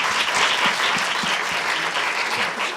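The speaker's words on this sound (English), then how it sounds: "can we give them a little round of applause?" Audience applause for a panel at an academic event on equity in population health science, a dense continuous clatter of many hands clapping at steady volume throughout.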